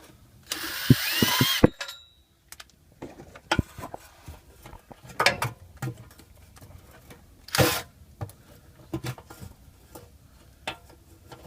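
Ratcheting clicks and metallic clinks while the last bolts come out of a Dodge Durango transmission pan, starting with a burst of rapid ratchet turns, then scattered taps and tool clatter, close and fairly quiet.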